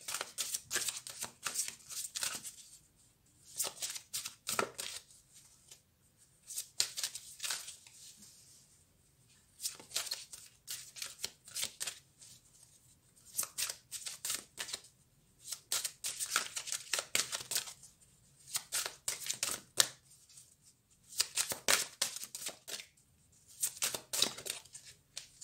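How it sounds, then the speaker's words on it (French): Tarot cards are shuffled in repeated crisp riffling bursts, each lasting a second or two and separated by brief quiet gaps, close and fairly soft throughout. "La sagesse Sophie qui s'invite dans votre tirage."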